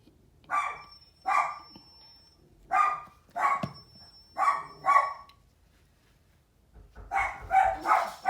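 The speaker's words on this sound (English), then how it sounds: "And if he knocks, then the dog will go crazy." A dog barks in spaced bursts, about eight loud, close woofs in an uneven rhythm with short pauses between, reacting to a delivery person at the door.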